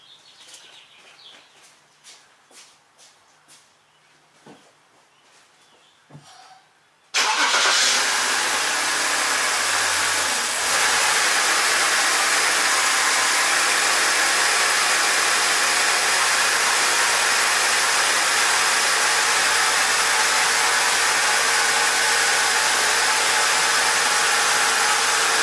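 A 2007 BMW X5 with a faulty electric water pump starts after several seconds of quiet clicks, then settles into a loud, steady idle that drones on close by.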